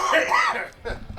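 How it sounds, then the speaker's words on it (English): Someone at a high school baseball game gives a short burst of coughing close to the microphone, ending in a throat-clearing sound. "you just made me cough"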